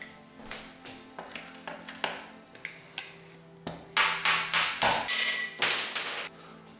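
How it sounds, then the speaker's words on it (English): A hammer taps repeatedly at a part being removed from a pinball playfield, with a dozen or so sharp close metallic strikes, spaced at first and then coming faster and louder, and one brief high ring near the end. "Tap with a hammer."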